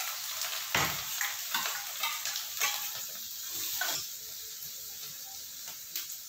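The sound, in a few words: onion and green chili tempering sizzling in pan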